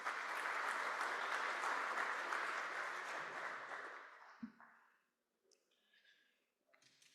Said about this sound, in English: So we'll give her a clap too.